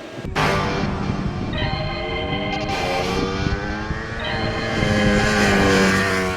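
A Ducati Panigale superbike engine revs loudly up and down, its pitch rising in waves, close and aggressive throughout.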